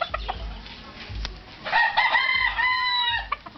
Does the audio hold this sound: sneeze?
no